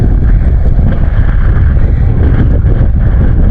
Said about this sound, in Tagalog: Kabalik yung hangin